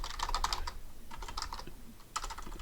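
Rapid, steady keyboard typing while writing Java code, dense clattering keystrokes in three close bursts with short gaps, fairly loud and without any voices.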